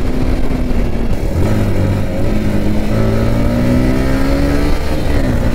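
A KTM RC 390 motorcycle revs hard and accelerates through city traffic in a street race, its engine note climbing in steady rising sweeps, loud and close throughout with no talk.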